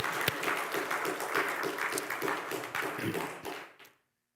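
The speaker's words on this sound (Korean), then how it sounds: "하늘께 영광의 박수를 안 드릴 수가 없네." A church congregation applauds during a Sunday worship service, a full, even round of clapping that holds steady and then quickly fades to silence near the end.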